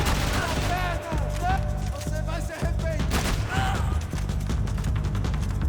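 Gunfire in Max Payne 3 in a favela setting, dense rapid shots and bursts that keep rattling with brief gaps, loud and close, with a voice talking over parts of it.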